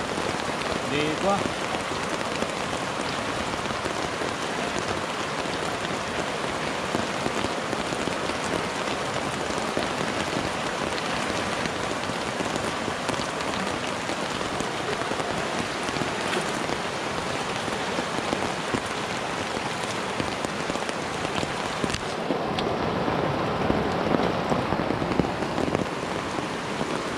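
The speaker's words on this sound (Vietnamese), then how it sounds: "Mưa càng ngày càng to các bạn ơi, trời miền Trung mưa to quá trời." Heavy rain pours steadily in central Vietnam during flood season, a dense, loud, unbroken hiss of drops hitting surfaces near a mountain stream in Quang Nam, with faint talk beneath.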